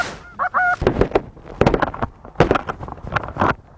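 Geese honk repeatedly in loud, overlapping bursts at close range during a goose hunt in Lancaster, with a few harsh calls running together and no talk over them.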